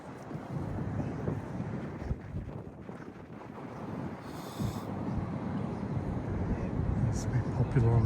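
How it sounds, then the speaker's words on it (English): Breezy wind buffets the microphone on a hotel rooftop in Melbourne, a steady rumbling roar that fills the whole stretch, with a person talking through it. "It's a bit popular on the summer nights, a bit breezy today."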